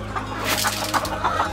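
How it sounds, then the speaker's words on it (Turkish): Chickens peck at scattered corn, giving soft, close clucks and short chattering calls in quick irregular bursts, with a low background hum and no talking. "Tavuklar mısırı çok fazla seviyorlar."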